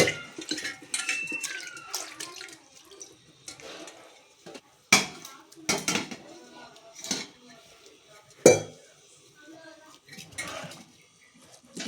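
Metal spoon scraping and clanking against a cooking pot while rice soaking in water is stirred for coconut milk rice, a run of irregular knocks and scrapes over a wet, sloshing bed, without voices.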